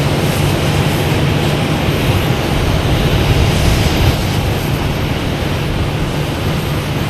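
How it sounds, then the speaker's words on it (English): A jet airliner in Azores Airlines livery arrives at Boston Logan Airport at night, heard as a steady, loud, broadband engine roar that holds for several seconds without letup, no voices present. "There we have Azores Airlines coming in the Inspire livery."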